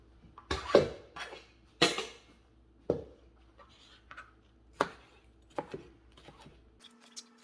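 Cucumbers and tomatoes being chopped for a salad, a sequence of sharp, separate knife strikes on a cutting board at an uneven pace, close and clear over a quiet background.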